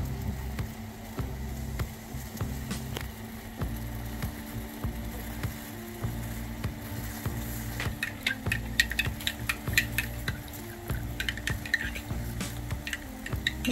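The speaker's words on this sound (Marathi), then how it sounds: "1-2 मिनिटं चहाला चांगली उकळी येऊ द्या" Tea with ginger and cardamom simmers to a boil in a pot, a soft, steady bubbling with regular low pops and faint clinks, quiet and close with no talking.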